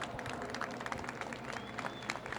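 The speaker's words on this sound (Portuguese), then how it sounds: "Júnior Machado, uma salva de palmas para ele, por favor." A quiet, steady patter of applause from an audience welcoming a moderator onto the stage at a smart city technology event, heard alone with no talking.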